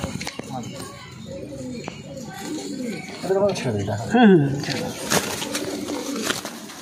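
Giribaz pigeons kept at a breeder's home, repeated throaty coos from a few birds close by, rising louder midway, while someone talks over them and small clicks and rustles sound throughout.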